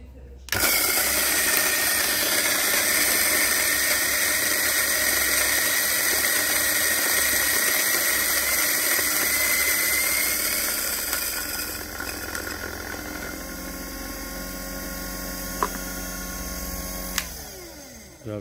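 An electric coffee grinder grinds a 12-gram dose of Sidikalang coffee blend, a loud steady whirring buzz that runs for about ten seconds, then slows and winds down with a few clicks near the end.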